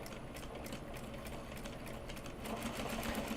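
A sewing machine stitching the folded seam of a Japanese fabric bag, running steadily and loudly the whole time, picking up slightly in volume near the end, with no talk.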